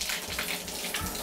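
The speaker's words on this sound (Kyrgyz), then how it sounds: "Мынандай болуп туруп суу чыгып атат." Water runs steadily from a tap in a village home in Kurshab, Kyrgyzstan, a close, continuous splashing hiss heard on its own.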